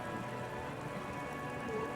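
Steady rain falls in the video game Disco Elysium, an even, continuous patter on surfaces throughout, with no voices.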